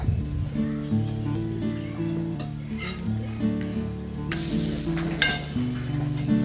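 A bread omelette, with bread laid over egg, frying on both sides in a pan, giving a steady, close sizzle that crackles throughout, with a couple of sharper spatula taps and a low tonal hum underneath.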